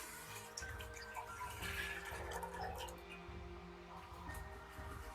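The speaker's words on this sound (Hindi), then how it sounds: "तो अब इसमें सबसे पहले हम पानी डाल देंगे।" Water pours steadily into a cooking pot set on a lit stove for carrot kheer. The pour makes a continuous close splashing gush that fades toward the end.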